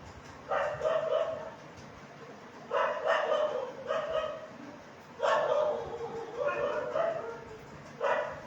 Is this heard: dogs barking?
yes